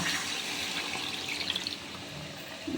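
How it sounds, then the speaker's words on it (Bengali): Water saved from boiling kohlrabi pours into a cooking pan of kohlrabi in a steady, close, gushing stream lasting a few seconds. "ওলকপির যে সেদ্ধ করে জলটা রেখেছিলাম জলটা আমি ফেলিনি ওই জলটাই আমি এই ওলকপির মধ্যে দিয়ে দেব"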